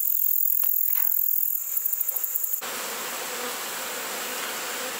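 Dense insect buzzing from a honey bee colony in an outdoor bee yard, a steady close hum filling the whole clip, with a few soft knocks early on and a brief rhythmic pulsing before the drone settles.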